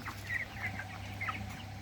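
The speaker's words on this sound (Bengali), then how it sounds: "বেশ ভালো মুভিং হচ্ছে 24 দিনের মুরগি।" Broiler chickens about 24 days old cluck softly in a poultry shed, a few short calls scattered over a low steady hum, with no talking.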